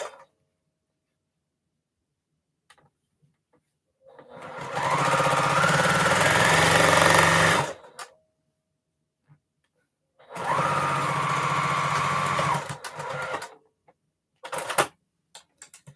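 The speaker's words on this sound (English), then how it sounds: "The thing about sewing fast like this, though, you have to make sure you stay on your seam guide" A sewing machine runs fast along a seam in two sustained bursts of rapid whirring, loud and close, separated by quiet pauses with a few brief clicks and handling noises.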